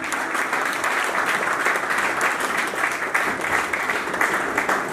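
Steady, dense applause from a seated audience at a welfare organization's oath-taking ceremony in Samundri, welcoming Assistant Commissioner Faisal Sultan; loud, continuous clapping holds evenly for the whole stretch with no speech over it.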